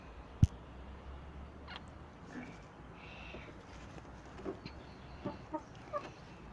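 Backyard hens cluck softly and intermittently, short scattered calls spread across several seconds, faint against quiet outdoor background noise.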